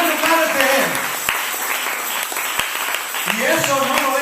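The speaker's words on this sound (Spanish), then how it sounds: "Le doy un aplauso al Señor." A church congregation breaks into loud, sustained applause with scattered sharp claps, while a voice talks over the clapping.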